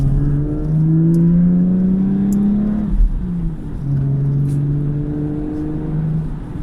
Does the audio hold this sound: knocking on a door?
no